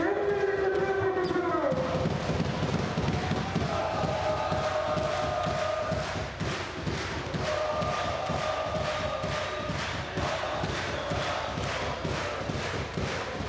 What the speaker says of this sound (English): Crowd rocking and rolling in Bandirma once again.